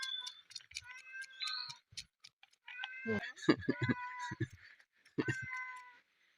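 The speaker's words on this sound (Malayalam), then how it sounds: "എന്താ പൂച്ച വന്നു" A cat meows repeatedly near a kitchen where a woman is cleaning fish, with several drawn-out meows in a row and someone talking between and over them.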